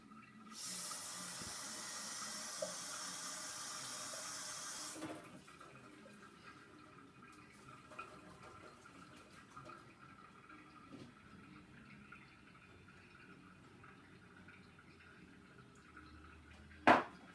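Germinating seeds rinsed under a stream of running tap water: a steady, fairly close hiss of flowing water for about four seconds, then it stops and only faint handling noises and drips remain, with a sharp knock at the end.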